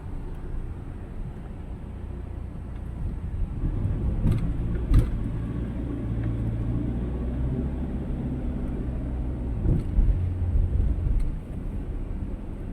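A Toyota Super Grandia Elite van moves slowly through traffic, a steady muffled engine drone and road rumble heard from inside, with a couple of brief knocks.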